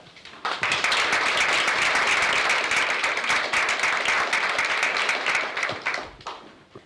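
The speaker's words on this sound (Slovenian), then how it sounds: "z enim velikim aplavzom pozdravimo Milana Krajnca." An audience's applause welcoming a speaker to the stage, steady dense clapping that starts abruptly and holds for about six seconds before tapering off.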